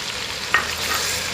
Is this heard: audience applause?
no